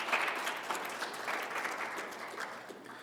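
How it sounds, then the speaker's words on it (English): An audience at a business excellence awards event in a hotel applauds the sponsors, a steady, moderately distant clapping that fades slightly toward the end. "give a bit of a round of applause, virtually or whatever, to our sponsors"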